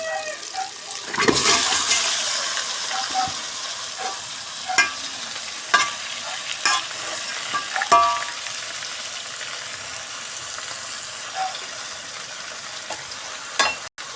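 Fish goes into a hot pan with a loud splash of sizzling that settles into steady close frying, broken by occasional pops and stirring scrapes.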